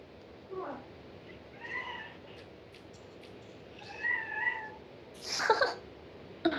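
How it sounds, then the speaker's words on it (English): A pet cat meows twice in drawn-out, wavering cries near the microphone, each lasting under a second, with a short sharper sound near the end over a faint background hiss. "That's my cat."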